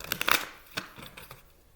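Tarot cards being shuffled by hand indoors: quick, crisp papery riffles and soft flicks, faint and close, with a few scattered taps afterward.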